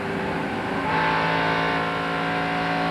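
NASCAR Busch Grand National race car with a 350 cubic inch, 9-to-1 compression V8 at a Las Vegas race, engine note climbing as the driver gets back on the throttle, a loud, steady harmonic roar heard from trackside.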